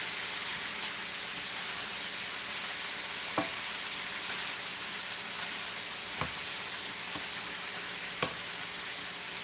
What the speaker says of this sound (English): I'm going to mix all this in.